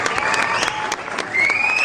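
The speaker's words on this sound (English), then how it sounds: "The applause is his added, not ours." Short burst of applause added as a sound effect, steady crowd clapping for the whole stretch with a whistling tone sliding through it.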